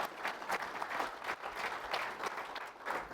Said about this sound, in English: everybody could give me another round of applause